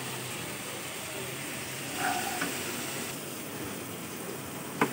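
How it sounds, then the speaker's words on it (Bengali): Potatoes sizzle in a hot pan over a raised flame, a steady close hiss and crackle with soft stirring scrapes, continuous throughout. "আলুগুলোকে দিয়ে একটু কষাতে থাকবো"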